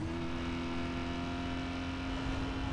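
Steady, droning car engine at constant pitch in Need for Speed Most Wanted, a continuous whir held throughout without talk.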